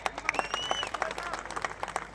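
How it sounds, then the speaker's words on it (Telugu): Audience applause at a crowded stage event: a steady patter of many hands clapping for about two seconds, moderately loud and dense, with faint tonal whistles or voices above it. "గట్టి క్లాప్స్"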